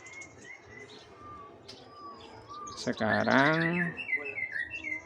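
A young trotolan, a small dove hatched around early July, gives soft scattered chirps, then a louder burst of cooing calls close by. Someone speaks briefly.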